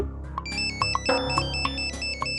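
A mobile phone plays a melodic ringtone with bright repeating chime notes over a steady backing, loud and close, running continuously for a couple of seconds.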